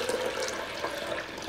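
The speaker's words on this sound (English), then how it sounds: "So let's go ahead and fill our blender." Steady rush of tap water pouring into a blender jug, a continuous hissing splash at close range with no talking.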